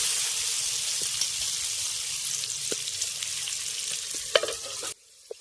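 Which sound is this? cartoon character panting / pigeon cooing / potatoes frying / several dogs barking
potatoes frying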